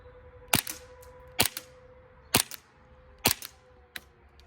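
USHOT TP22 airsoft pistol firing BBs: four sharp, loud snapping shots at roughly one-second intervals, then a fainter fifth pop, with quiet between them.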